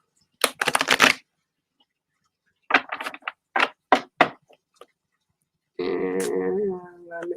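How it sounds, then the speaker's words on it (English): A deck of cards being shuffled in a few quick riffling bursts separated by pauses, close and crisp, followed by a brief spoken voice at the end. "I need to shuffle them up."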